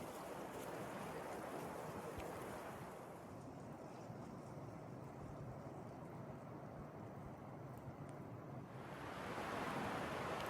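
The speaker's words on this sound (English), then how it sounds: "All you can hear is the wind whipping through the trees." Wind whips through trees on a snowy day, a steady, broad rushing roar that swells and eases slightly but never stops, loud and enveloping, with no voices.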